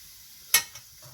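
Mustard seeds dropped into hot oil and ghee for a chayote sambar tempering, one sharp crackling burst of sizzle, then a fainter pop and quiet frying.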